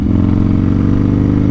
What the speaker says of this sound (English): This Dyna is my first ever street legal motorcycle